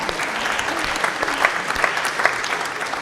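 A theatre audience claps together in a steady, moderately loud round of applause before the interval of a live show, with a few sharper individual claps.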